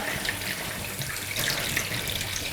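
Tap water runs steadily over sprouted seeds being rinsed in a colander, a continuous close splashing wash with no talk.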